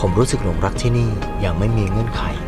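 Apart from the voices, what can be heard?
No everyday noises stand out.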